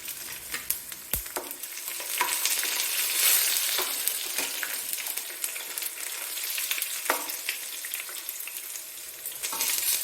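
Urad dal and garlic fry in a hot pan with a loud, continuous close-up sizzle, punctuated by occasional stirring scrapes and clicks, with no voices.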